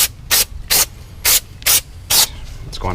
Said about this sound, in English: Go ahead and spray this on down a little bit right here